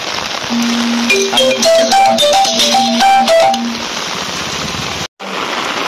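Heavy downpour on a day walking along a railway line under an umbrella, a steady loud hiss of rain throughout, overlaid early on by a bright stepping melodic tune that fades after a few seconds.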